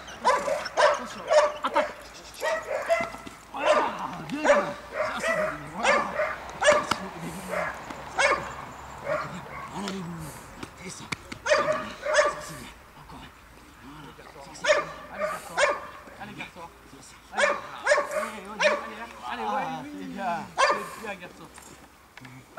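A dog barks repeatedly during protection training, loud sharp bursts in irregular volleys with occasional yips and whimpers, while people talk in between.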